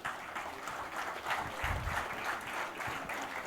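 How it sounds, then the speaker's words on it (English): An audience at a book series launch event applauds authors and translators with steady, continuous clapping that fills the room for a few seconds. "A big round of applause for our Yuva authors and translators."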